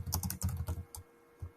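Fingers tap quickly on a computer keyboard in a short burst of quiet, close keystrokes, then pause with a single stray tap, no talking.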